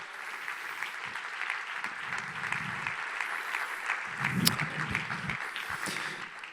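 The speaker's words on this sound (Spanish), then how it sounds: "Dale un fuerte aplauso a nuestro Salvador." Church congregation clapping in a worship service, a steady sustained applause at moderate distance, with occasional voices and cheers rising within it.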